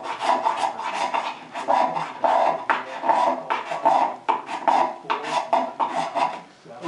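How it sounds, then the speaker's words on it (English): Card scraper drawn repeatedly across a wooden tenon by hand, a quick series of close, dry rasping strokes in an uneven rhythm with short pauses between. "But I'll take a card scraper"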